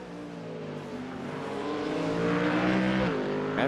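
Race cars roar around the Oran Park circuit in an iRacing sim race, several engines droning together with a steady, rising whine and a gear-shift dip as one car passes a back marker.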